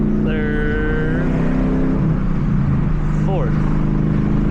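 A 2013 Ford Mustang GT engine is loud and close as it accelerates, with rising whines that drop off at each gear shift, and a voice speaks over the engine.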